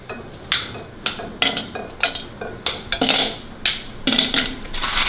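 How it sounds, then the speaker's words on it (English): Chocolate is snapped into pieces in a glass bowl: a string of sharp cracks and clinks at an uneven pace, close and fairly loud, with short gaps between breaks and no talking. "I'm just gonna break this chocolate up into some pieces so that it kind of melts evenly"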